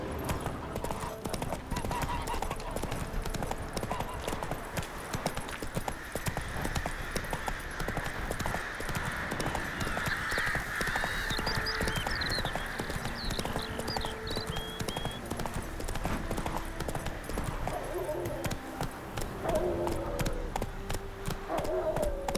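Horse galloping in The Witcher 3: Wild Hunt, north of Oxenfurt: fast, steady clip-clop hoofbeats running throughout at moderate volume over ambient game music and a few brief whinny-like sounds.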